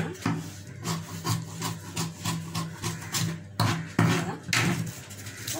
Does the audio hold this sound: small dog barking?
no